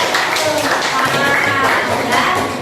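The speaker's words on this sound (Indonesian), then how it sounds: "Tepuk tangan buat kelompok 4 ya." Classroom students applauding a student group after a presentation, dense continuous clapping at close range filling the short moment.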